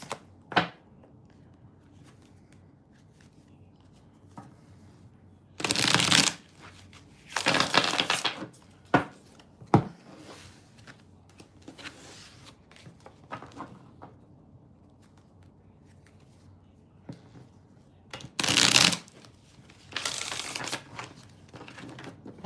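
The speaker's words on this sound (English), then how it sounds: "Let me just shuffle, shuffle, shuffle." Tarot cards shuffled in a few separate bursts with quiet stretches between, plus occasional light taps and handling noises nearby.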